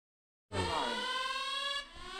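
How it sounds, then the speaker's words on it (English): A boat's anchor alarm goes off at night, a sudden loud electronic tone with a rich stack of harmonics that starts abruptly, holds steady, then drops slightly in level near the end. "Anchor alarm."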